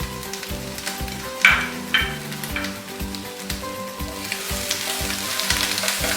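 Chicken fries with spices in a pan, giving a close, strong sizzle with steady crackling and a few louder spits and stirring scrapes.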